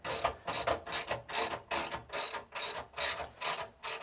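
A ratchet tightening 5/16-inch U-bolt nuts on a travel trailer tongue box clicks in steady, repeated bursts, about two strokes per second, close and fairly quiet, with no talking.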